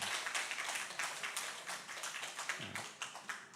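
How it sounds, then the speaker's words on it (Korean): Church congregation clapping in welcome for newcomers during a Sunday service, a steady patter of many hands at moderate distance, fairly soft and continuous. "함께 박수로 환영해 주시기 바랍니다"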